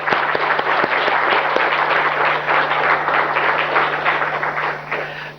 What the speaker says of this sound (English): I think we all need a big clap for him.